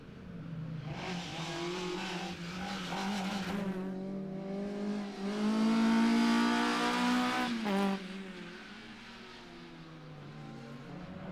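A front-wheel-drive rally car racing on a circuit rally stage at Donington Park, its engine revving loudly through gear changes, swelling as it passes close, then fading, with possible tire squeal.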